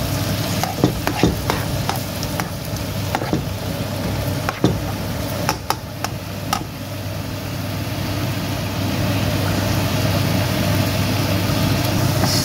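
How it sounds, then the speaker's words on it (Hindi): Roasted aubergine being stirred through hot desi ghee with black pepper and salt, a steady sizzle under repeated scraping and clacking strokes of a spoon against the pan, fairly loud and close, with no talking. "देसी घी में अच्छी तरह से कुक करेंगे इसको। ये काली मिर्च और नमक डाला है, इसको अच्छी तरह से मिक्स करेंगे।"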